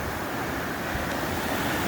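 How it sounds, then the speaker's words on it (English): Waterfall at Dunn's Falls in Maine pouring down into a small gorge, heard as a steady, broad rushing roar of water with some wind noise, continuous and fairly distant, with no talk. "you can see up there some waterfall that's coming down."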